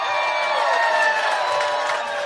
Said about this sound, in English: What a weird extra cheer we just got.